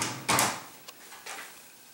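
Hotel room drawers slide open and shut, giving a soft woody scrape and thump followed by a couple of lighter knocks and another brief slide, close by in a quiet room.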